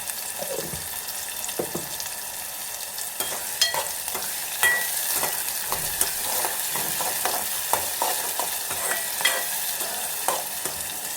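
Chopped onions and green chillies frying in oil in a pan with a little salt, a steady close sizzle broken by repeated scraping stirs and clicks of a spatula, with no voices.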